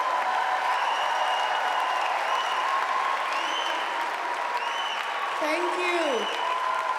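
Summit audience applause, a dense, even patter of many hands continuing throughout, fairly distant, with a brief spoken word near the end.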